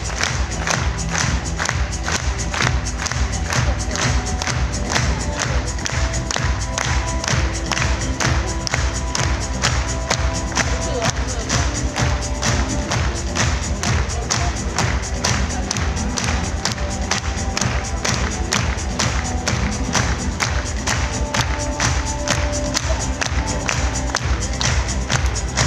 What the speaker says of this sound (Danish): du skal finde dig i og få lidt klapsalver nu